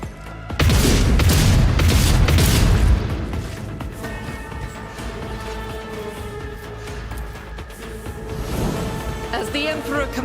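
Burst shots fire in Rogue Trader, a loud booming volley packed into the first few seconds, then a quieter stretch with a tonal hum and a faint clatter near the end; a voice talks alongside.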